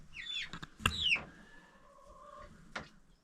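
Young chicks on a homestead peep and cluck in short, close bursts with a few high chirps and a trailing call, fairly clear over a quiet background.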